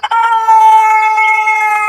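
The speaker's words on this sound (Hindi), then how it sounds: "मुर्गा अजीब सी आवाज में चीखने लगा" A rooster lets out a loud, sustained, strained cry, a single drawn-out screech held for nearly two seconds, close and clear.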